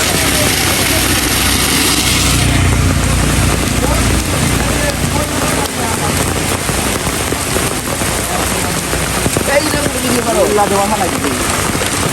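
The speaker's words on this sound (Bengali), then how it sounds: "বৃষ্টি হচ্ছে" Heavy rain pours steadily in a Bangladeshi village, a dense, continuous hiss that fills the whole stretch at constant loudness while a voice talks over it.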